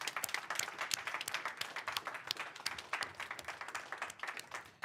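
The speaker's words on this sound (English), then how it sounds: "we can maybe give them one last big round of applause" An audience at an innovation challenge event applauds the competing teams, producing a steady, continuous patter of many hands clapping, heard at a distance and fairly faint.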